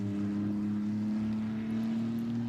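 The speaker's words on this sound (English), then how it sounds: "Remenyenko setting another faster lap on his final attempt in the Mercedes" Mercedes GT race car running a qualifying lap at Barcelona, its engine a steady, sustained drone with a faintly rising pitch, heard continuously and at moderate distance without any talk.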